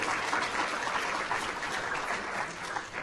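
Steady applause from a seated audience at the close of a plant pathology talk session, dense continuous clapping at even volume for about three seconds, with no voices over it.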